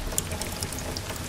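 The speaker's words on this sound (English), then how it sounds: "Pouring water on the building." Water pours steadily onto a building as sprinkler-system water comes through the ceilings, a dense continuous splashing rush with scattered drips, loud and close with no voices.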